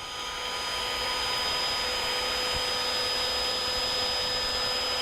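A heat gun runs on medium heat to warm a decal on a Great Plains min-till drill, a steady broadband blowing whir close by, alone and constant throughout.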